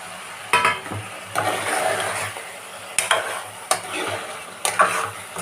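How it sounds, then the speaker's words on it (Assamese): A chicken curry made with curd, with fried potatoes added, is stirred in a pan. Close, repeated scraping strokes come in bursts over a soft, steady sizzle, with no talking. "ইয়াতে মই এয়া ফ্ৰাই কৰি লোৱা আলুখিনিও দি দিম"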